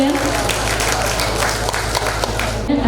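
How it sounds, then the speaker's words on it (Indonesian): An audience applauds the acting Mayor of Malang at a Friday morning community gathering, a dense, steady wash of clapping that fills the short stretch with voices mixed in. "Boleh kita berikan tepuk tangan yang meriah Bapak Ibu sekalian?"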